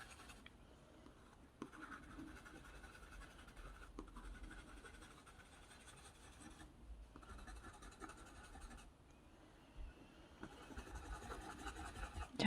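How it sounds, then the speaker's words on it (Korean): A watercolor pencil scratches softly and steadily across paper while yellow is colored in, with quiet, continuous strokes broken by brief pauses. "빼곡하게 칠하지는 않고 군데군데 이렇게 하얀 부분은 좀 빈 공간을 남겨주면서 칠해줍니다."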